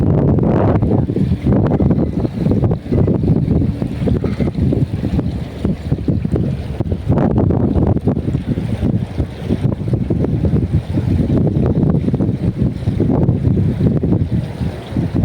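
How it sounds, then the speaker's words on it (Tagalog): Strong, steady wind roaring and buffeting the microphone without a break, with a continuous low rumble throughout. "Lakas ng hangin."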